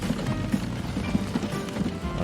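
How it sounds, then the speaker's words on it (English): In the Transport Fever game, a horse and buggy clip-clops steadily through town, a continuous patter of hooves over a dense, busy background hum with no talking. "horse and buggy are now loaded up, making their way through town with goods."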